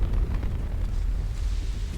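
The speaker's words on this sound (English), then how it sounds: "Wow, that is an oddly sized explosion." A video-game explosion in Mass Effect 2 rolls out as a heavy, sustained low rumble with crackling debris noise, loud and steady for about two seconds with no talk over it.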